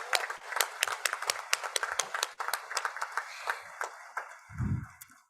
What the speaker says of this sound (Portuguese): Uma salva de palmas para São Bernardo do Campo.